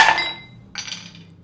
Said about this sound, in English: And then we'll just knock it out with a hammer.